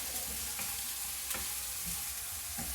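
Chicken curry masala sautéed in a pan, a dense, even sizzle close up with soft scraping stirs at intervals and no voices.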